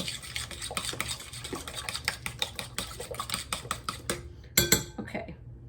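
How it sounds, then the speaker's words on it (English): A tablespoon stirs pumpkin muffin batter in a bowl, a quick run of close, clinking scrapes against the side, slowing and then stopping near the end. "Well, I'm gonna go ahead and mix this up just a little bit."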